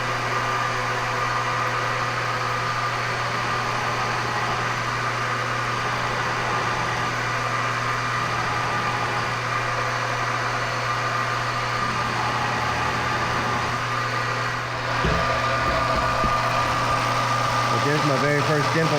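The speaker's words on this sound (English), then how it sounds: "I'll turn the machine on and just come in and start to ball mill" Milling machine ball-milling dimples into a chrome Harley chopper frame: a steady motor drone with a constant hum runs throughout, and louder cutting noise builds near the end.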